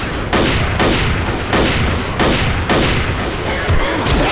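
Gunfire in the video game Left 4 Dead: rapid repeated bursts of loud shots, about five volleys in quick succession, close and dominant with no talking.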